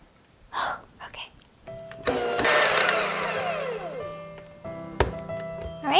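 An electric mixer whirs through eggnog cheesecake filling, starting after soft breathy vocal sounds and running for a few seconds with rising and falling pitch before stopping.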